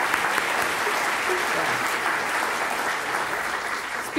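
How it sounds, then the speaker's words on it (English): An audience at a writers and illustrators awards ceremony gives sustained, loud applause, a dense wash of clapping that stays even from start to finish. "So, yes, applause."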